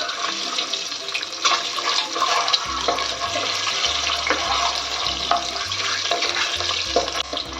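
Eggs frying in hot oil for egg biryani, giving a dense, steady sizzle and bubbling with faint clinks from a utensil, heard alone and close up.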